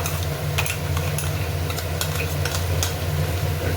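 Tomato puree going into ginger and garlic frying in a pan for a potato and fish curry: a steady, close sizzle with occasional utensil scrapes over a low, constant hum.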